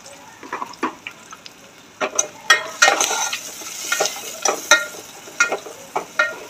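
Curry leaves and turmeric tossed into a hot tempering, frying with crackly sizzles and uneven stirring scrapes, close and moderately loud, with no voices.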